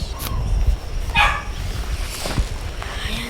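Dog barking inside the game ARK Survival Evolved Mobile: a few sharp barks and a whimpering yip over a steady game ambience.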